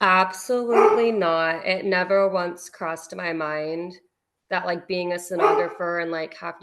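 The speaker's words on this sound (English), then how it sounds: "I'm sorry about my dog." A pet dog barks in short bursts, mostly masked beneath continuous conversational talk, with one brief pause in the speech.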